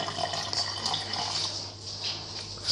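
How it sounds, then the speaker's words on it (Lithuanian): Iced tea with lemon is poured into a cup, a soft steady trickle of liquid running for a few seconds, close and fairly quiet, with no voices. "įpilam į gražų puodelį"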